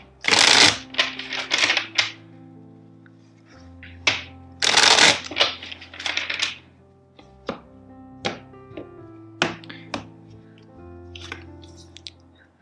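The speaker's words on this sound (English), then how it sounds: "Two more shuffles." A tarot deck is riffled twice in quick crackling bursts, then tapped and shuffled loosely with scattered soft clicks and patters.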